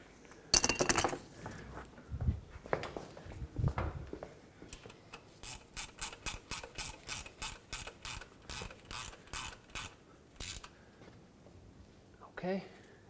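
A ratchet wrench tightens clutch bell housing bolts on a 2006-2011 Honda Civic, with a quick steady run of about a dozen close clicking strokes after some clunks, followed by a brief clatter.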